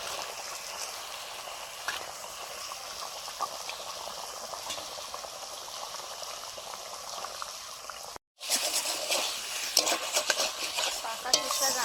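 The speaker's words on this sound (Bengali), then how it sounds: "এবার মাছগুলো দিয়ে দিচ্ছি।" Katla fish pieces frying in a pan make a faint, steady bubbling sizzle with soft stirring scrapes, briefly cut off before returning louder and busier.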